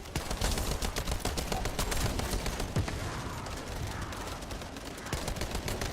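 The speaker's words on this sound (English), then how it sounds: "Lower fire rate, massive damage per hit. It's almost like a scout rifle." Rapid rifle fire from the video game The First Descendant, a dense run of sharp repeated shots across the whole stretch, loud and close, with no talk over it.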